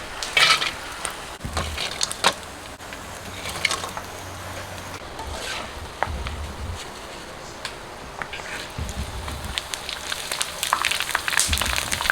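Thai pork rinds with fat (khaep mu tit man) frying in hot oil over medium heat, a soft steady sizzle broken by scattered pops and occasional low clatters, quiet throughout.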